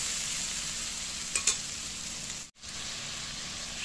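A spice paste frying over a low gas flame, a soft, even sizzle with a couple of brief stirring scrapes near the middle and a momentary drop out just after.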